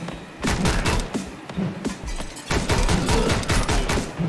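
Rapid bursts of gunfire from the Speed Limit video game set on a bullet train, loud repeated shots in quick clusters with short gaps between volleys.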